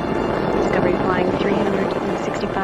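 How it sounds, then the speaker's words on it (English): Space Shuttle Discovery climbing on its ascent toward the International Space Station, its engines giving a steady, dense broadband roar under continuous narration. "Discovery's engines are throttling down as the orbiter passes through the area of maximum pressure on the vehicle"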